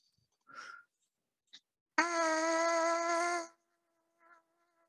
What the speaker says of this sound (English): You buzz the mouthpiece first.